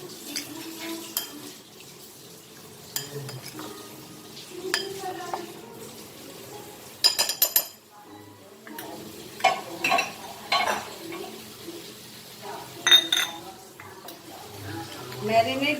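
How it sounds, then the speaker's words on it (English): Beef is mixed by hand with marinade spices and salt, giving soft, scattered squelches and bowl clatters with several sharper knocks, faint and close amid quiet stretches. "So let us mix this all together"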